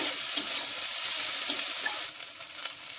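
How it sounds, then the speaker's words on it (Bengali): Ginger, garlic, green chilli and onion fry with a fish head for a cabbage dish, giving a steady close hiss with occasional spoon scrapes and stirring clicks, with no voices. "তো ভালো করে ভাজা ভাজা করে নেব আদা রসুন কাঁচা লঙ্কা পেঁয়াজের সাথে"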